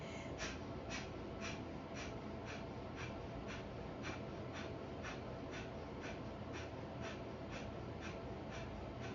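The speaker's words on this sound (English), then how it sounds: "Breath of fire for 1 minute." Rapid yogic breath of fire, sharp forceful exhales repeating in a steady fast rhythm of roughly three per second, close and continuous for the whole stretch with no talking.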